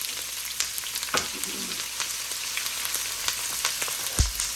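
Green, red and yellow peppers and onions sizzle steadily in a very hot pan for stir-fried cabbage, a bright continuous hiss with occasional utensil knocks and a thump near the end.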